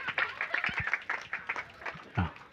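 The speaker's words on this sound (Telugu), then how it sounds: "సాలన్న వాళ్ళందరూ గట్టిగా చప్పట్లు కొట్టాలి ఇప్పుడు." A church congregation claps in loose, uneven bursts, moderately close. The claps sound thin and scattered rather than a full roar.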